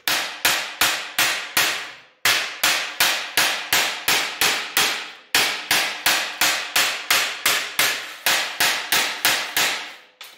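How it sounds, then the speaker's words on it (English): A hammer strikes sheet metal laid on top of a workbench in fast, steady bursts of sharp ringing blows, loud and close, broken by two brief pauses. "All I'm going to do is hammer into the top of the bench."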